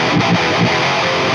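Distorted metal guitar recorded through a speaker cabinet with a 57 microphone, a brief burst of thick chugging riffing with a few muted accents, loud and continuous.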